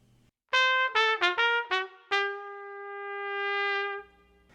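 A trumpet plays a single jazz measure in early swing style, a few short detached notes followed by a long sustained tone that swells slightly before stopping, clear and close with no voices.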